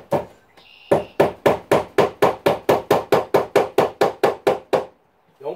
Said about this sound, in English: You're just going to staple your wire along your stud